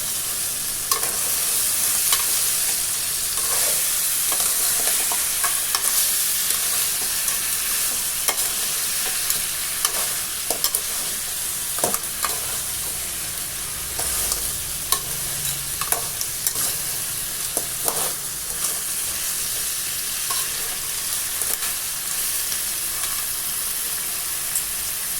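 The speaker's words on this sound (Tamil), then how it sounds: "நண்டை ஒரு 10 நிமிஷம் அந்த எண்ணெயிலே பெரட்டி போட்டு வேக விடுவோம்." Crab pieces fry in hot oil for a crab curry, with a steady close sizzle and hiss throughout and intermittent scraping clinks of a spoon stirring the pan, no voices.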